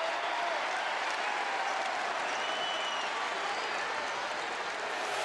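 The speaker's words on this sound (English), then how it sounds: "the frenzy of the Cat crowd here at the Georgia Dome showing its presence" A Kentucky basketball crowd roars and applauds inside the Georgia Dome, a dense, steady wall of cheering that stays loud and sustained throughout, heard from within the arena.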